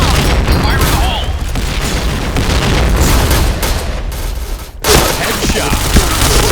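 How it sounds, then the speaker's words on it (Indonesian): Grenade explosions and gunfire in a Counter-Strike style shooter on the Sandstorm map, with dense rapid bursts and booms running throughout and one sharp break near the end. Voice callouts sound over the battle. "Fire in the hole!"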